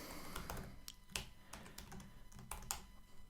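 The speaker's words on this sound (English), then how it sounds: "Yeah, I really hate this keyboard." Rapid typing on a disliked computer keyboard while writing code, a quick irregular run of close, crisp key clicks with no talking.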